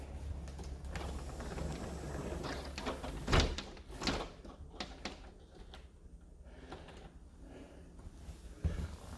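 A door in a Florida house is shut and secured during a walkthrough, with several sharp thumps and clacks of the door and latch against a steady hum of room noise; no talking.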